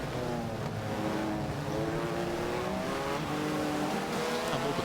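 BTCC touring cars race in a video game at Brands Hatch GP, with several engines howling together in a continuous layered drone, revving steadily under acceleration at a moderate level.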